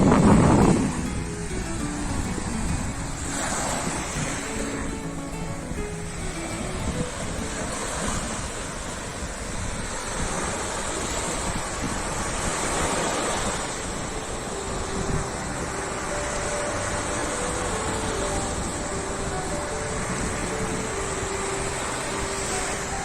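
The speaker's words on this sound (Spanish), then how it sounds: "Y como veis está muy calmadito el mar." Calm sea washing gently onto the beach at Nova Canet, Valencia, a steady soft surf hiss with light wind buffeting the microphone throughout, no voices.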